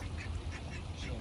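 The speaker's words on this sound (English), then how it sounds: "Watch out, Ducky." Near a backyard fish breeding pond, a duck gives a short, muffled run of low quacks, faint and close together.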